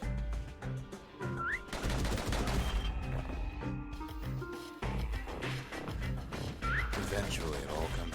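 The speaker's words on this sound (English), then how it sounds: "The slingers like to edge each other out using customized pistols." Rapid, repeated pistol gunshots sound from the video game Bastion over its music and other game effects, with someone talking over the action.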